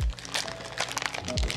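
Plastic packaging holding Ziploc bags crinkles and crunches close up in a brief burst of irregular rustling and crackling, with a low thump at the start.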